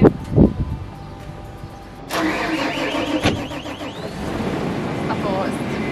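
A tractor with an automatic gearbox cranks and starts up close by, its engine catching after a brief whir and settling into a steady idle, with people talking nearby.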